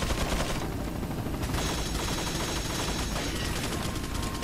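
Sustained automatic gunfire in Resident Evil 4, a loud dense rattle of rapid shots running for several seconds without pause.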